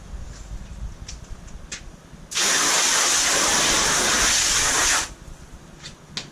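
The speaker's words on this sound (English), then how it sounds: "blast it with water" A car drying towel gets blasted with a hose, a loud broad hissing spray that starts abruptly, runs steadily for about three seconds and cuts off, with quieter outdoor noise before and after.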